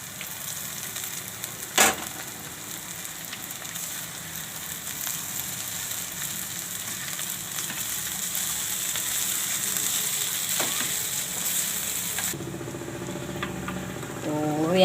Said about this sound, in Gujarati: તો હવે આપણે આ પૌવા નાખી દેવું.